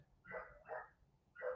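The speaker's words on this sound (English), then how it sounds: "Fucking dogs." Dogs bark three times in a quick, uneven series, each bark short and sharp, heard faintly from a distance with quiet gaps between.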